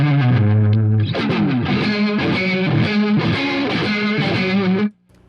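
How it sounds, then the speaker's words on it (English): Electric guitar with humbucker pickups driven through an overdrive pedal, playing loud, gritty chords and riffs steadily for several seconds before cutting off abruptly. "So this is with overdrive."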